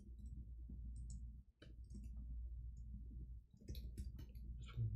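Soft, quiet clicking taps come in short irregular bursts over a low steady hum, close by and without voices.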